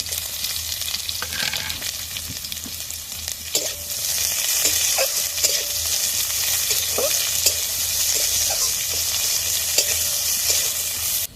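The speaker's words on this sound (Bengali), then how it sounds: "রসুনটা একটু ভাজা ভাজা করে নেব দিলাম পেঁয়াজ কুচো" Chopped garlic and onion fry in a pan, a continuous close sizzle that grows fuller partway through, with scattered scraping clicks from a utensil stirring.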